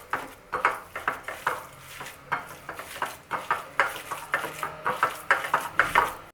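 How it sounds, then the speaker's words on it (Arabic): Hamburger patty ingredients are worked together by hand in a bowl, giving rapid, rhythmic squelching pats and soft thumps that repeat throughout, close and fairly loud. "صافي نخلط المكونات كامله مع بعضياتها"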